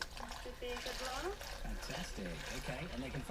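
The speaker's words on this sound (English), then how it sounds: "we're just now gonna pour some water in there" Water is poured into a bath that holds the carburetor of a Mountfield HP164 lawnmower, giving a continuous trickling pour as someone talks over it.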